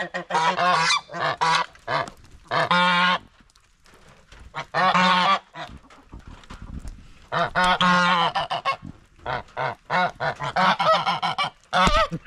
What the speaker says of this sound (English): I ain't afraid of no geese.